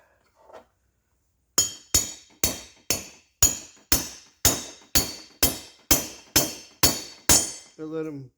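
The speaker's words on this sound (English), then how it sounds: "I just tap it lightly, let it find its center." Sharp metallic taps drive a Subaru engine valve guide into its bore, thirteen evenly spaced ringing hits in a steady rhythm, close and clear, with a brief voice before and after.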